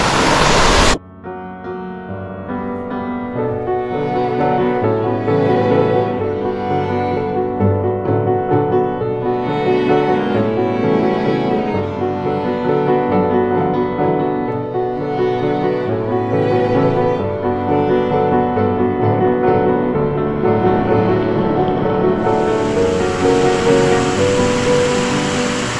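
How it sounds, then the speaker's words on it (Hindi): Monsoon waterfall at Visapur Fort in Maharashtra, a steady broadband rush of falling water that stays loud and continuous throughout, with no talk over it. "यहाँ पे एक बहुत ही ब्यूटीफुल सा वाटरफॉल है"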